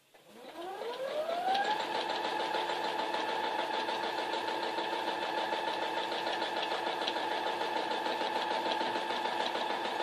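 A sewing machine doing free motion quilting spins up from rest within the first two seconds, then runs at a steady, fairly quiet pitch with a continuous whirring drone and no talking.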